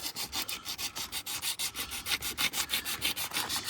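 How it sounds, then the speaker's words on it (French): Rhythmic back-and-forth sanding scrapes rust off the gasket face of a water pump mounting surface on a Renault 1.5 dCi engine, steady close strokes about four per second with no talking. "c'est ponçage du plan de joint pour enlever toute la rouille"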